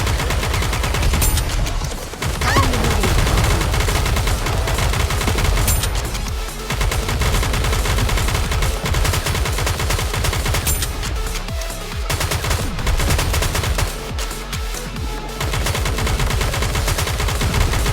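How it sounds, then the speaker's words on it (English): Dense, continuous gunfire and explosive bombardment in the Goddess of Victory: Nikke mobile shooter, loud rapid bursts with only brief lulls over about eighteen seconds; no talk. "Commence bombardment. Faster, stronger. Keep shooting."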